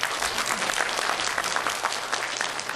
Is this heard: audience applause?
yes